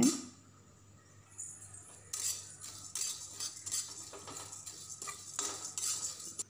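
Toor dal being dry-roasted in a pan for idli podi, a metal spoon scraping and clinking against the pan in uneven stirring strokes, close and fairly quiet, with no talking.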